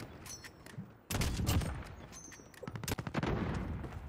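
Gunfire in a Call of Duty Modern Warfare 2019 multiplayer match: dense crackling volleys of shots, some far and some close, with a sudden loud burst partway through and rapid repeated cracks after.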